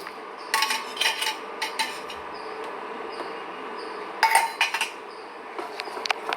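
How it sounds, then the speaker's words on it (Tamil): A spoon stirs paniyaram batter in a bowl, making bursts of close clinks and scrapes against the bowl separated by quieter pauses. "நம்ம இதை மாவை கிண்டிக்கணும்."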